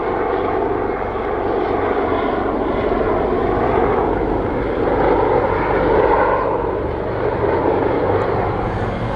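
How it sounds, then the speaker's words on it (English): A police helicopter passes overhead with a loud, steady droning engine and rotor roar that swells slightly midway, heard alone without talk. "Oh, this is the police helicopter."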